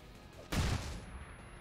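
A flashbang grenade going off in a squad-based video game mission: one sudden loud blast with a crackling, noisy burst that settles into a lingering ringing wash for about a second.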